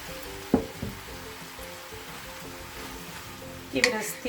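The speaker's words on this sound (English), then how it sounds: "Give it a stir." Tonjiru pork soup with green onion and burdock being stirred in a pot, with a low, steady simmering sizzle throughout and two brief, sharp clanks of the spoon against the pot near the start and end.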